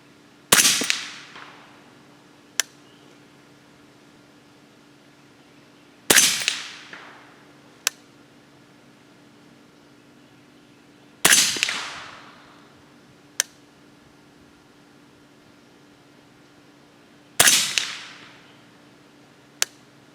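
Four sharp, loud 300 Blackout subsonic rifle shots firing 200gr Maker REX handloads, spaced roughly five seconds apart, each a hard crack with a short decaying tail followed about two seconds later by a faint distant impact tick.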